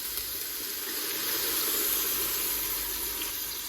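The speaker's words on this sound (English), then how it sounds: "Now we're going to use the red wine, and that's going to help to deglaze the bottom of the pan." Red wine hissing and sizzling steadily in a hot pan as it deglazes the bottom, a constant close broadband hiss without any voices.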